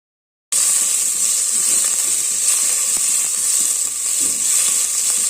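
Chopped beans hit hot oil in a pan and sizzle loudly for vegetable biryani, a sudden start after brief silence, then a continuous bright frying hiss with small crackles.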